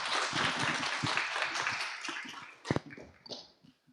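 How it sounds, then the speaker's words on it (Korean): At a Friday prayer meeting in a church, the congregation applauds a visiting missionary, a dense round of clapping that thins into a few separate claps and dies away. "신기석 선교사님 나오실 때 박수로 맞겠습니다"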